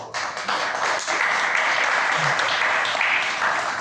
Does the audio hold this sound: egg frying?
no